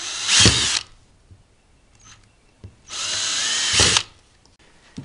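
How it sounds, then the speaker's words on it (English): A power drill boring through the centres of aluminium antenna elements for a homemade TV antenna, two loud high-pitched whirring bursts of under a second each, separated by quiet handling clicks. "I'm going to drill all these in the center,"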